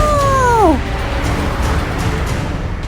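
A kitten gives one clear, loud, falling meow right at the start, followed by a steady wash of background noise.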